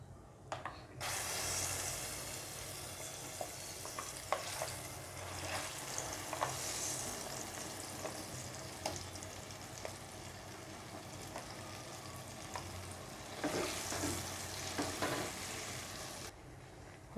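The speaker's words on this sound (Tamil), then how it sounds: "இதை கைவிடாமல் நம்ம கிண்டிக்கிட்டே இருக்கணும்" Cooked moong dal paste being stirred continuously in a pan for Thiruvaiyaru Ashoka halwa, a long steady hiss of frying with repeated scraping and clicking strokes, close and quiet, no voices.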